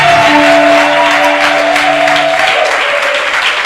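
A church congregation applauds in worship, loud steady clapping from a full crowd with a held sung or spoken tone over it at first, then the clapping continues alone.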